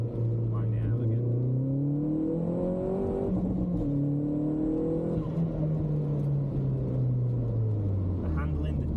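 A 300 hp Vauxhall Astra VXR with a standalone ECU revs hard on the road, its engine note climbing steadily through the gears in a loud, continuous drone heard from inside the cabin.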